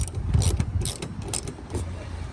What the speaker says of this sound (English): now you're gonna take this top bolt off